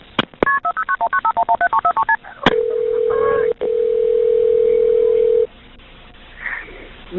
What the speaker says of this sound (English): Dial 911.